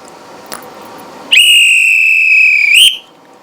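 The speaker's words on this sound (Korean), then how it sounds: "이럴 때 호루라기를 불지" A single loud, shrill whistle blast at a puffed-grain popping shop, held steady for about a second and a half, close up, after a brief quiet rustle.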